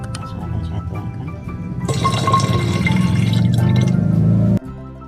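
Porang fertilizer crystals poured into water make a rising splash and trickle that swells loudly, then cuts off abruptly near the end.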